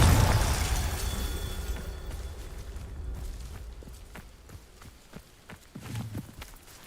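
Fiery Confringo explosion spell in the wizarding game Hogwarts Legacy, a loud booming blast that decays over a couple of seconds, followed by scattered sharp pops and thuds of debris or footsteps.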